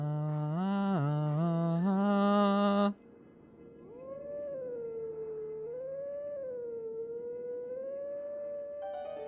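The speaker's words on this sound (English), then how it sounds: "Get a little bit of auto tune on a wolf howl" Wolf howl from the video game The Legend of Zelda: Twilight Princess: a loud, harmonic, wavering note for about three seconds, then a long, smooth, rising and falling howl that carries on alone to the end.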